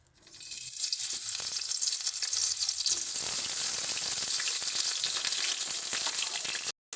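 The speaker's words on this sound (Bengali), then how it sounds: "তো চলো একই রকমভাবে আমরা বাকি বেগুনগুলোকেও একটু ভেজে নিচ্ছি।" Eggplant pieces fry in oil in a pan with a loud, close, continuous sizzle that rises quickly at the start and holds steady until it cuts off abruptly near the end.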